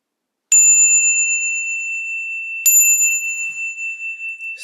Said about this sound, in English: And I brought a bell.